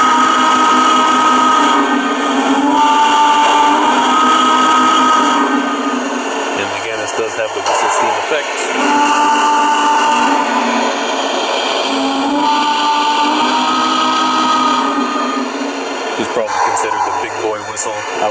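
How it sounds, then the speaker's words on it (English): Steady, sharp whistle tones from a Lionel Legacy Southern Pacific AC-9 model steam locomotive sound repeatedly, each held for a second or two, over a constant mechanical hum with short bursts of clatter between them. "Alright, let's hear some whistles."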